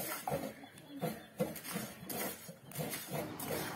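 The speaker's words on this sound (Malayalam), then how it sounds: "മീഡിയം ഫ്ലെയിമിൽ വെച്ച് നമുക്ക് പതുക്കെ ഒന്ന് വറുത്തെടുക്കാം" Rice and peanuts being roasted slowly in a pan over a medium flame, with soft repeated scraping and light rattling of grains as they are stirred, faint and close.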